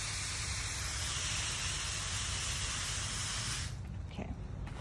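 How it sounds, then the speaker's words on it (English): Spray bottle misting houseplants such as an elephant ear at the base, a sustained broadband hiss that cuts off near the end, leaving quieter room sound. "Spray this one at the base."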